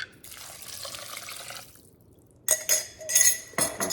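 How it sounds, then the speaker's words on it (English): Tap water runs steadily over home-canned black beans being rinsed in a sink, then cuts off briefly before returning with louder splashing and clattering as the beans are shaken in the stream, close and alone. "So I'm gonna go ahead and rinse these and then put them in my chili"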